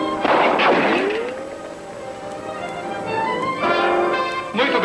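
Rifle shots fired during shooting practice in a dubbed western film, several loud sharp reports with ringing tails spread across a few seconds, with no talking.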